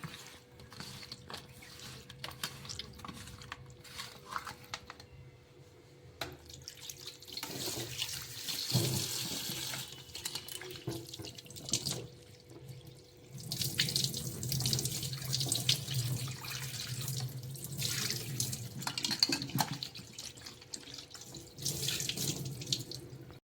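Tap water runs into a sink while morala fish are washed, a splashing stream that starts and stops with brief gaps and the clatter of handling between bursts.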